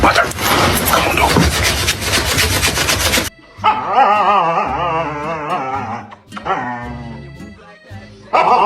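Dog barking in a playful home setting, a dense burst of loud barks and commotion followed by sustained whimpering, yelping vocal sounds in short bouts, with people talking nearby.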